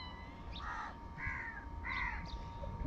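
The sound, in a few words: crows cawing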